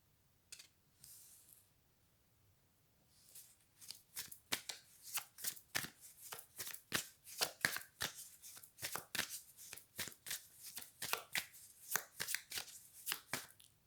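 Playing cards shuffled by hand for a reading, a long run of crisp riffling snaps repeating in quick bursts, close and clear, with no talking.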